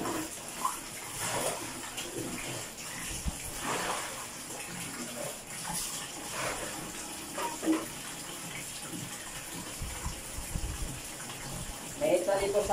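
Laundry is washed by hand in water, with splashing, sloshing and dripping close by, irregular and ongoing, while a person talks over it.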